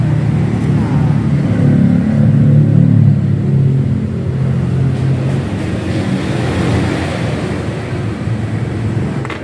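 A Honda Beat FI fuel-injected scooter engine with a stalling fault runs and is revved close by, giving a loud, continuous rumble that swells early and then settles into a rough idle, while someone talks over it.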